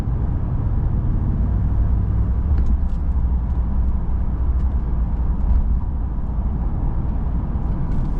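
A stock 5.7 Hemi V8 pickup truck cruising on the road, producing a steady, deep engine drone and rumble from inside the cab, loud and continuous throughout with no talking.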